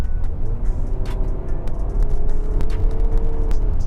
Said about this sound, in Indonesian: Siap-siap aku akan injak gas dalam-dalam.